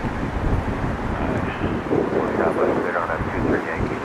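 Gusty wind buffets the microphone at an airport, a dense, rumbling roar that swells and dips throughout with a voice faintly underneath.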